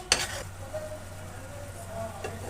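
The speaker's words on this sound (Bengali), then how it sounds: "একটু নেড়ে চেড়ে নামিয়ে নিব" Fried pumpkin flower fritters are stirred in an egg gravy, opening with a sharp utensil clatter against the pan, then a soft sizzle over a low steady hum.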